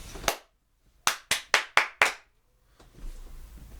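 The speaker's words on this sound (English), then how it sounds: "you can see us clapping and then hear it" Hands clap sharply in a podcast room to sync audio and video: one crisp clap, a pause of about a second, then five quick claps in an even row, each ringing briefly before quiet room noise returns.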